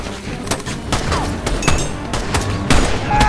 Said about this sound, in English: fighting in it with a hail of gunfire going by from police